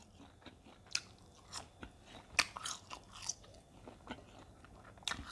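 Crunchy latiao, a spicy Chinese gluten strip snack, being bitten and chewed up close, with sharp crisp crunches at irregular intervals and no talking.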